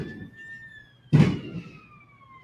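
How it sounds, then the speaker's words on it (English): An ambulance siren wails steadily at a distance, a thin tone gliding slowly downward as it passes, interrupted midway by a loud close thump. "You hear an ambulance going now."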